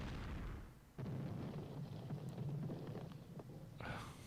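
Battle explosions rumble in the WWII strategy game Strategic Command during a Russian winter campaign, a dense continuous barrage of deep booms and crackling blasts, with a fresh heavy hit about a second in.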